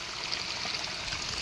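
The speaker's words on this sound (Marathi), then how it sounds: "आमच्या समोरच्या गेटच्या समोर बघा असं पाणी जाते पूर्ण कॅनलचं पाणी" Canal water flows past a gate in a steady, even rush of clear water, moderately loud and unbroken, with no voices.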